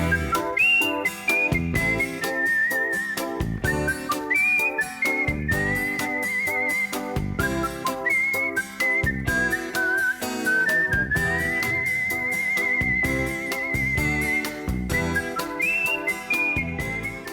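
Whistled melody of the theme from the film Les Compères, a bright, steady tune carried over continuous musical accompaniment, loud and close throughout with no talking.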